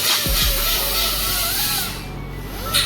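A grinder works on a racecar trailer frame with a loud, steady, high whine and a harsh hiss that holds evenly throughout, easing slightly near the end.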